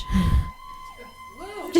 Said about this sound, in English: Just gonna let the sirens go by.